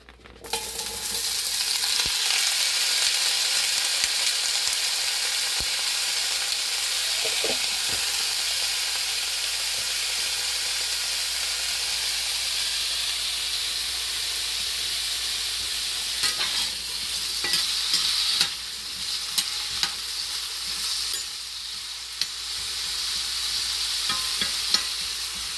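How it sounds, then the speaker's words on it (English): Potatoes frying in a cast iron pan give off a constant loud sizzle and hiss, joined later by scattered scraping clicks and stirring knocks as the contents are moved around. "Yes, there is going to be a sizzle."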